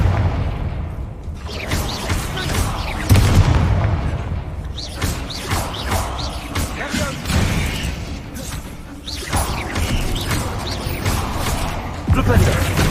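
Confringo blasting-spell explosions in Hogwarts Legacy, repeated booming bursts with crackling debris in a dense run of combat sounds, spoken voices heard among them.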